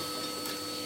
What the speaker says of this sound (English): just hoover this bit up down here